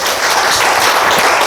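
Loud, dense applause from a ceremony audience at an executive appointment event, steady and continuous throughout with no speech over it.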